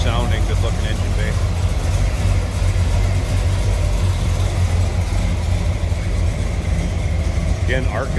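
Steady, smooth idle from a 1985 Chevrolet C10 running an Edelbrock four-barrel carb, a constant low engine drone close by, with brief faint speech at the start and end.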